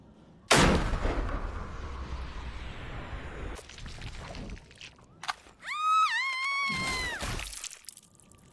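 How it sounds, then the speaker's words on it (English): A sniper rifle shot in the indie horror game Sniper Killer: one sharp, loud report followed by a long decaying rumble. A few fainter clicks come after it, then a high wailing tone near the end. "Regaining control of the killer, we take our shot."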